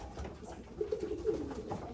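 Pigeons in a pigeon loft give a few soft, low coos close by over a quiet background.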